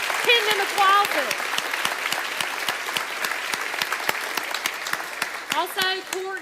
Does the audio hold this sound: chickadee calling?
no